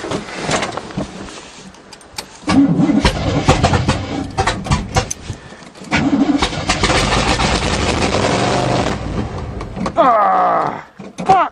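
A 1977 GMC truck with a 400 small-block carbureted engine cranks in snowy cold, with repeated loud starter bursts and engine catches across the span, some clatter between attempts, and a voice near the end.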